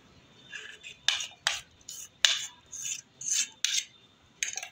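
Pan of drumstick dhokla batter shaken by hand in short bursts, about a dozen sharp metallic scrapes and rattles, close and distinct, with brief quiet gaps between them.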